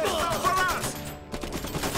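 Rapid volleys of gunfire in the Iron Harvest strategy game, dense overlapping shots and battle clatter filling the clip with a brief lull near the middle before the firing resumes.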